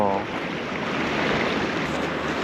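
Continuous wash of rough, high sea waves at a breakwater with steady wind noise outdoors, broad and loud with no clear breaks.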